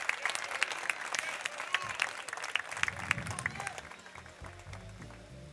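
A crowd claps steadily for a few seconds at a horse race trophy presentation, the applause thinning out as it fades toward the end.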